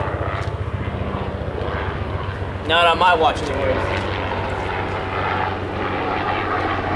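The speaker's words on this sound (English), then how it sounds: "Sorry about that, police helicopter's flying over." A police helicopter passes overhead as a steady, loud low rotor drone spanning the whole stretch, with someone talking briefly over it near the middle.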